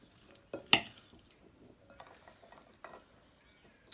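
Bean, goats cheese and herb salad tipped into a bowl: a couple of quick clattering scrapes of utensil on bowl near the start, then softer rustles and one more light knock, close and alone.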